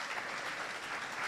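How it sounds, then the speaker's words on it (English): Audience applause for guests at a youth policy dialogue, a dense, even wash of many hands clapping, moderately distant and continuous. "Let's give a very warm round of applause"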